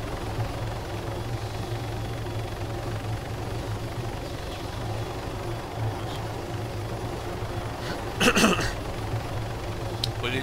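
A helicopter in the ArmA 3 military game makes a continuous low rotor drone, with a brief burst of louder noise near the end.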